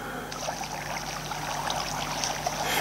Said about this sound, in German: durch den Wasserfall hinunter